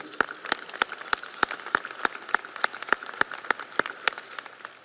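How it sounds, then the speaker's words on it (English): Scattered claps ring out at a graduation commencement ceremony, sparse, sharp and fairly distant, spaced in a loose, uneven rhythm rather than a full ovation. "a round of applause to you"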